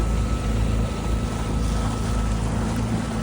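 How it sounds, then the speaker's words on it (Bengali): Boat travelling on the backwaters of Kerala, a dense steady engine drone and rushing water and wind roar, loud and continuous throughout with no voices. "দেখো আমাদের বোট যাচ্ছে"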